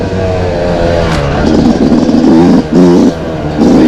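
A Yamaha YZ two-stroke dirt bike engine revs up and down at close range, a loud continuous buzz that swells and dips in bursts, with no talking.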